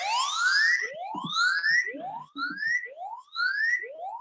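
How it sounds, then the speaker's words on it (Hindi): A phone plays a siren alarm from the Mighty Guard security app while set to silent mode, sounding as a series of rising electronic whoops that repeat rapidly and loudly, with a few faint clicks in between. "आप देख सकते हैं यहाँ पे सायरन बज रहा है"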